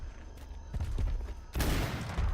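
Video game gunfire in the survival game Atlas, a couple of sharp shots followed by a loud burst of firing, close and punchy over a low background rumble.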